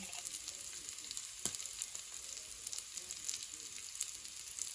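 Animal fat oil sizzles in a frying pan while being spread around, a steady close hiss of frying crackle with occasional small pops and a faint scrape, no talking.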